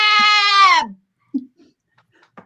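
A goat gives one loud, long, wavering bleat close by, followed by a few faint scuffs and soft sounds in an otherwise quiet setting.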